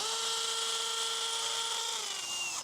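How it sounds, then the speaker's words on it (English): Steady high-pitched whine of a power drill running continuously, then slowing slightly near the end. "So hand me that drill back there."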